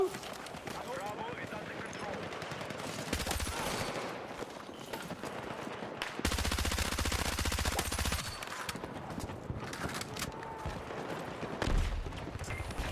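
P90 submachine gun fire in Battlefield 6, quick automatic bursts rattling out in several separate strings, fairly quiet and mixed with game ambience and other battlefield noise.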